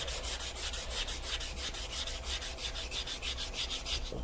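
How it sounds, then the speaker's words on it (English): Sanding a piece of solid aluminum with 400-grit abrasive: steady rhythmic back-and-forth rubbing strokes, close and moderately loud, about two strokes per second, continuing alone without talk. "out of solid aluminum, which is the one we're working on right now, sanding that up"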